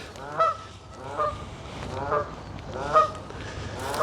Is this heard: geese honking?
yes